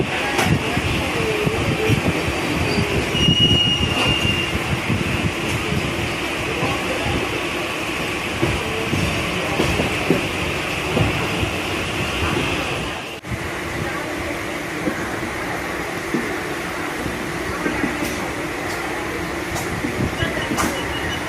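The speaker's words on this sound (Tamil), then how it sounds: "here we are taking this train to Panruti" Passenger train to Panruti rolling steadily along the rails, a continuous rumbling clatter heard from inside the carriage, with a voice speaking over it.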